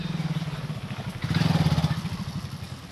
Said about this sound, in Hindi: आप देख सकते हैं कि इसके बाइक के साउंड कैसा आया होगा।